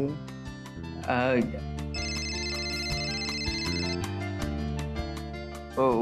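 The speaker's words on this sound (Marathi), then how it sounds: "एक महत्वाचा फोन आहे" A telephone rings in a Marathi TV serial scene: a steady electronic ringtone repeats for several seconds over a bed of background music, with voices faintly present.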